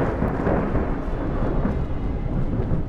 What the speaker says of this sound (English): Stupid storm, I can't hear properly.